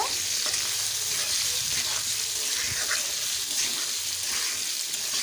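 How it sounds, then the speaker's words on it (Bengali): Cut potatoes with a little salt and turmeric fry in hot oil, a loud, dense, continuous sizzle and crackle close by, steady throughout with no talking. "আলুতে দিয়ে দেব সামান্য লবণ, সামান্য হলুদ গুঁড়ো। আলুটাকে ভালোভাবে ভেজে নেব।"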